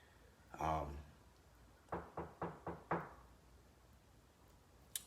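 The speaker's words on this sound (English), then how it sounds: "Just got a knock at the door." Five even knocks rap on a door at moderate distance, preceded by a brief muffled thump, in an otherwise quiet indoor room.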